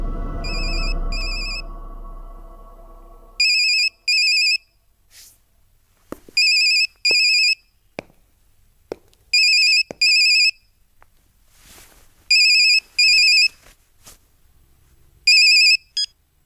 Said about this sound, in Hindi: यशवंत को मोबाइल पे फोन लगाओ